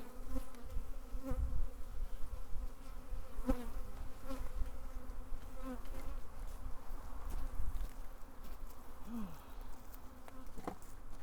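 Honey bees in a nucleus hive produce a steady, close buzzing hum throughout, with occasional louder passes as individual bees fly near and no talking.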